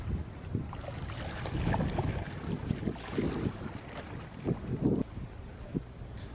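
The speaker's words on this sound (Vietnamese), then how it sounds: "có một chiếc ghe thu mua cá của Vũng Tàu các bạn đang có chạy với tốc độ rất là nhanh luôn" A Vung Tau fish-buying boat speeds across open sea near Phu Quy island, its engine a steady low drone under gusty wind buffeting and splashing water, with repeated thumps as the hull slaps through waves.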